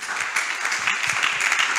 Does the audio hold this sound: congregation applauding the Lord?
yes